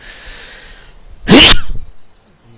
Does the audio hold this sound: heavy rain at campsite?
no